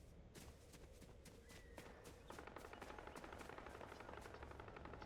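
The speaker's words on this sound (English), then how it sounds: "I'm hearing a helicopter." Helicopter in Fortnite Battle Royale, a steady rotor chop with rapid rhythmic pulses that grows louder midway, mixed with other game noise and no talk.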